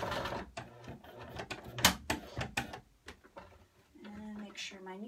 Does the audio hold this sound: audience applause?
no